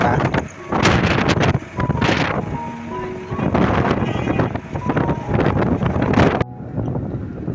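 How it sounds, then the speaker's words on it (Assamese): Cold wind buffets the microphone outdoors near a bridge on a countryside trip, making a continuous loud rushing roar with voices heard intermittently beneath it. "ঠাণ্ডা বতাহ।"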